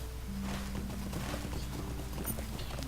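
Pony hooves clip-clopping while riding in Lord of the Rings Online, a quick steady run of hoof beats under a constant low game ambience and music, no talking.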